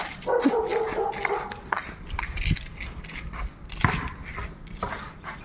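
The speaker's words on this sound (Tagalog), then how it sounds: "Aso." A dog gives a few short, uneven barks at moderate distance, with scattered outdoor clatter between them.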